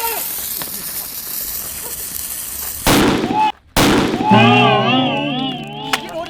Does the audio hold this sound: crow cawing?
no